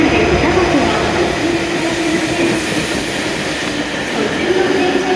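A Hokuriku Shinkansen E7 series Kagayaki 521 train pulls into platform 11 at Kanazawa Station with a loud, steady rolling rumble and wheel hum up close, while a station announcement voice runs underneath.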